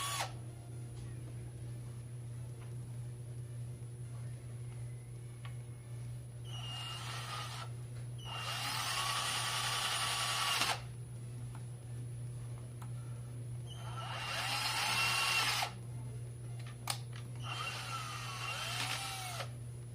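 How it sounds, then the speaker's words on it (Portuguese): A Philco PPF02MF drill bores through a pipe in a wall in several separate loud bursts, with a steady hum and quiet gaps between the runs. "Vou fazer o teste aqui agora furando um cano aqui."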